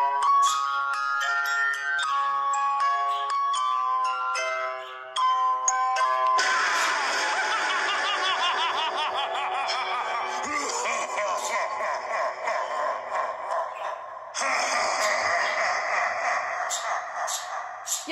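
A Spirit Halloween animatronic prop sets off its built-in sound effects: a jingling electronic melody followed by loud, harsh, buzzy noise bursts, close and fairly loud, with nobody talking.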